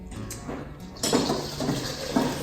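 Boiling water pours steadily into a pot with a hissing splash for making kombucha tea, getting louder and fuller partway through, close by.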